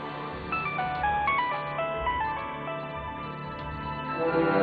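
A mobile phone ringtone plays a repeating electronic melody of bright stepped notes, steady and continuous throughout, with no talk over it.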